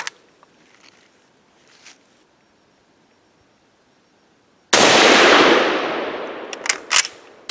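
Single loud 7.62x54R rifle shot fired at a 100-yard range, a sharp crack with a long decaying roar, followed by a few fainter clanks, after a quiet stretch.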